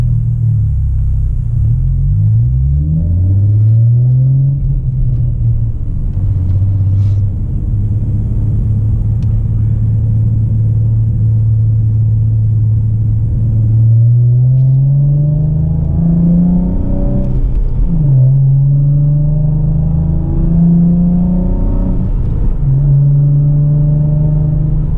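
A naturally aspirated 300-horsepower V6 car engine with a short shifter, running loud and close as it holds steady, rising and falling through several gear changes.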